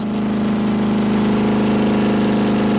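An engine running with no oil pan held at 6,000 RPM gives a loud, sustained, steady mechanical drone with a strong buzzing hum and no change in pitch.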